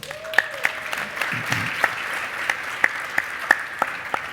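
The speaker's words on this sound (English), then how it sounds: "Let's give her a round of applause." Sparse, scattered clapping from a small audience at an education event, a few distinct claps spread irregularly over a few seconds, fairly quiet.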